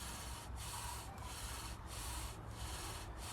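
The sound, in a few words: bow drill spindle friction on wood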